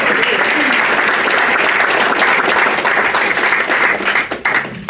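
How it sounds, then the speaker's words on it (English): Loud, dense applause from a crowd at a book launch fills the room, steady throughout and thinning slightly toward the end. "round of applause."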